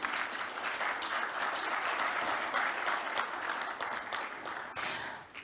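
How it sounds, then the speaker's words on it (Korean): An audience at a formal forum's opening ceremony gives sustained applause, a dense, fairly quiet wash of many hands clapping evenly before it tapers slightly at the end. "다시 한번 큰 박수 부탁드립니다"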